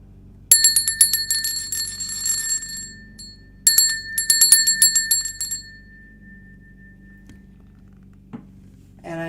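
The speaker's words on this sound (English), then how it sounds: "to enjoy the sound of the bell." A small bell rung for mindfulness practice during a group session gives two bright metallic ding strikes a few seconds apart, each with a long shimmering ring that slowly fades, followed by quiet room sounds.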